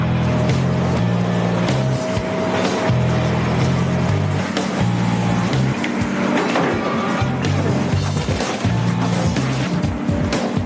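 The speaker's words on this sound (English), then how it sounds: "The Volvo EC460 mechanical shear is the guest of honor. I'm gonna smash some trucks today." A Volvo EC460 excavator fitted with a mechanical shear tears into scrap trucks, giving a loud, continuous grinding and crunching of metal and rubber over a heavy engine drone, with repeated pulsing surges.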